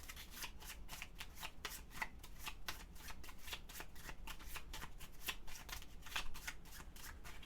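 Forbidden Island board game cards being shuffled, a steady run of close, crisp riffling flutters repeating for several seconds with no talk.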